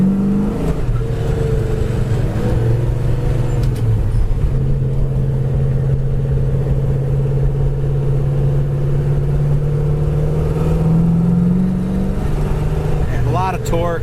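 A 1972 Pontiac Le Mans with a big block 454 engine driving, its low, steady engine drone heard from inside while cruising, with a slight pitch shift midway and a brief rise near the end; a voice talks over it at times.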